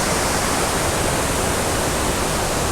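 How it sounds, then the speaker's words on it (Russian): Small waterfalls at Iguazu, Argentina, heard up close: a loud, dense, unbroken rush of falling water that fills the whole moment evenly, with no other sounds. "Журчит водичка-то. А? Друзья, как я близко к небольшим водопадам."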